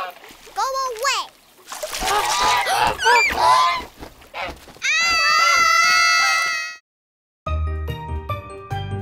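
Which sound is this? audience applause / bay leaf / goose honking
goose honking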